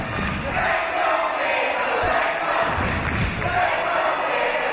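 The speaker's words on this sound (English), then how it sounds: "This crowd is so behind Gibson, it is literally making me sweat" A packed wrestling crowd roars steadily behind Zack Gibson during a British wrestling main event against Rampage Brown. The dense, continuous cheering and shouting fills the hall without a break, with some voices and thuds mixed in.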